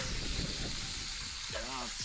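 A stir-fry for an Asian-style pan dish sizzles and crackles loudly and steadily in a hot pan, with brief scraping stirs and a short voice near the end.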